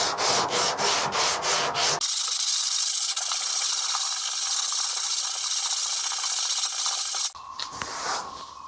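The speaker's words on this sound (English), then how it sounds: "It's got some 100 grit. Let's go ahead and do a basic block sand here" A truck tailgate being block sanded with 100 grit sandpaper, heard as a few quick rubbing strokes followed by a long, steady, close scraping stroke, with no talk.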